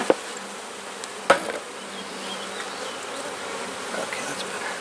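Honeybees buzz steadily around an open hive during a frame inspection, a dense, continuous drone close to the listener, broken by a couple of sharp knocks near the start.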